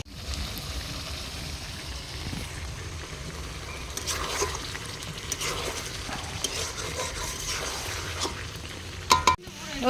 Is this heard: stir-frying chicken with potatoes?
yes